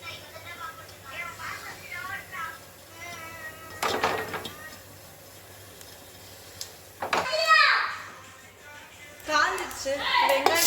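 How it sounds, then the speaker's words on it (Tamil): Children's voices ring out in a home kitchen while chicken biryani is being cooked in a pressure cooker. There are quieter calls early on, then louder shrill shouts in bursts toward the end. "என் பிள்ளைங்க கத்திக்கிட்டே இருக்குதுங்க"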